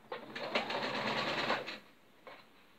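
Sewing machine running a basting seam on a little girl's dress, one short close whirring burst of stitching lasting about a second and a half, followed by a faint brief tap.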